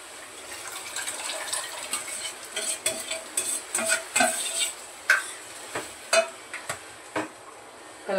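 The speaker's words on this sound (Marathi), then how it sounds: "डाळ अशी थोडीशी घोटून घेतली" Cooked black dal is stirred and mashed in a cooking pot, giving a run of wet, scraping stirs and soft knocks of the utensil against the pot, close and fairly clear, with no talking.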